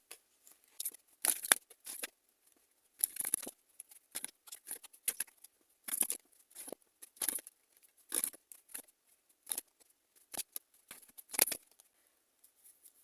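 Tarot cards being handled and drawn, with soft, close papery shuffles, flicks and slides arriving in quick irregular bursts, all faint and without speech.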